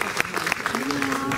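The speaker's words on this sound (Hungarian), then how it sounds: "Nagy tapsot kérek neki!" An audience at an outdoor village festival gives a short burst of clapping for a keyboard player, heard under a voice and some sustained musical tones.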